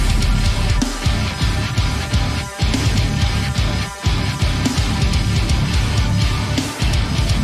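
Downtuned, very low guitar riffing from a metal track plays loud and dense throughout, with heavy chugging and a few brief gaps where the band stops.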